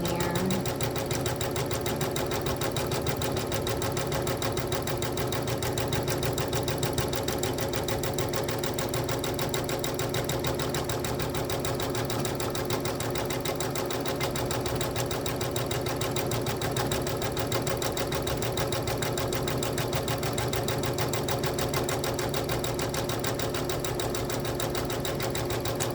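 An embroidery machine stitches a quilt held in a magnetic hoop, a loud, even, rapid mechanical whir and tapping that continues without a break.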